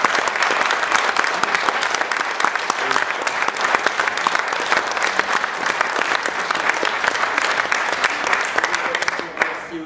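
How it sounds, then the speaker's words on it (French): An audience applauding an amateur theatre troupe's prop crew at a charity show in Maubeuge, a loud, sustained burst of clapping that runs almost the whole time and fades at the end, with scattered voices. "je voudrais vraiment les remercier et qu'on les applaudisse."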